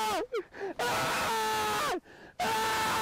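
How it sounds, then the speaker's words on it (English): A person screams while being stuffed into a corn costume, a string of strained, wavering shrieks and groans broken by short gasping pauses, loud and close. "Just screaming, getting stuffed into a corn."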